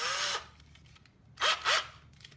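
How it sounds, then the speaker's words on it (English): A power drill with a 5/32 bit enlarging a hole in a shallow water anchor part: one short whirring burst, then two quick bursts a second later, close and fairly quiet, with no talk. "we're gonna go ahead and drill out that hole slightly larger."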